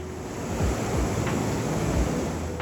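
Ocean surf on the rougher, open-sea side of the island of Ilhabela on the São Paulo coast: a steady, dense roar of breaking waves with a few heavier surges, mixed with wind buffeting, and no voices.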